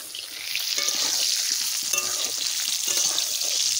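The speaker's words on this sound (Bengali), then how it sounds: "আমি এটাকে আলু ভাজি দিচ্ছি" Potatoes frying in mustard oil, a loud, dense, steady sizzle that swells after a moment and holds, with a few faint stirring scrapes underneath, close up and free of talk.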